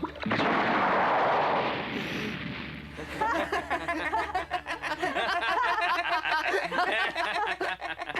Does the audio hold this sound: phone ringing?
no